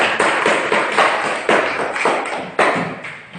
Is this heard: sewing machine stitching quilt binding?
no